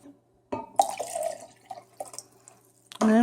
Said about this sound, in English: Next thing I'm going to do is add 2 cups of water.